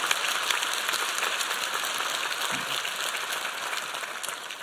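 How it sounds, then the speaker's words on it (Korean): Church congregation applauding in thanks during a Sunday service, a steady wash of many hands clapping that fades slightly toward the end. "하나님께 한번 감사의 박수합시다."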